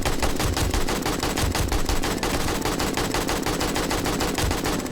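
Automatic rifle fire in the 7 Days to Die Alpha 18 survival game, compared against an AK: a steady, loud, rapid burst of shots running for several seconds without pause.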